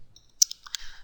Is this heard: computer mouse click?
yes